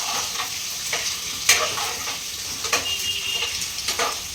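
Food frying lightly in a pan, a steady close sizzle with occasional sharp crackles and stirring clicks, no voices.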